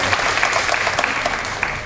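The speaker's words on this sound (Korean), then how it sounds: "頑張ってくださった方に拍手を送りましょう。" A seminar audience applauds steadily, a dense, even patter of many hands clapping indoors for the whole stretch, with no voices over it.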